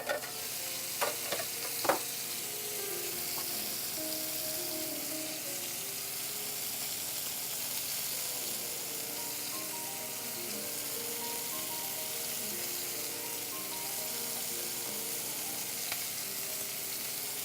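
Scallops sizzle in a single pan with fresh mozzarella melting on top, a soft continuous frying hiss with a few faint clinks of utensils early on, quiet and close with no talk.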